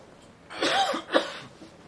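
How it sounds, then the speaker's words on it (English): A single throat clearing, a short rasping burst followed by a second sharper hack, close and moderately loud against quiet room tone. "Sorry, I had to clear my throat."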